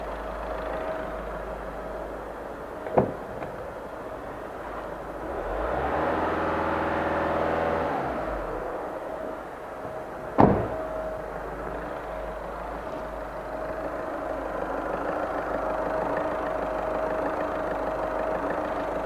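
VW Caddy 1.6 TDI diesel engine with low fuel pressure, idling with a steady clattering hum, a single rev swelling and falling midway, and two sharp clicks or knocks in the background.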